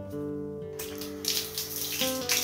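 Water sprays in a steady hiss from a bare shower hose with its head broken off, in a small rented bathroom; the spray starts abruptly about a second in, over sustained background music.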